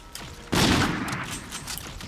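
Heavy burst of video game gunfire from Call of Duty: Infinite Warfare, a loud sustained volley that erupts after a brief quiet lead-in and rattles on for over a second and a half with no talk.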